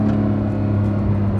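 Porsche 991.2 911 GT3 flat-six engine held at high revs around 6,000 RPM, a steady, loud, close droning engine note with strong low harmonics throughout and no talk.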